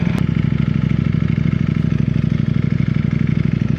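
A Ducati Panigale V4R sport motorcycle engine running at a steady loud idle, a close, deep rhythmic throbbing that holds evenly throughout with no speech.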